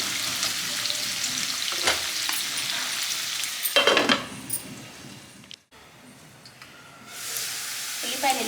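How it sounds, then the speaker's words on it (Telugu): Onion pieces sizzle and fry steadily in a pan, with occasional stirring scrapes and clinks, up close and fairly soft. "ఈ ఉల్లిపాయ ముక్కల్ని మంచి కలర్ వచ్చే వరకు ఫ్రై చేసుకుందాం"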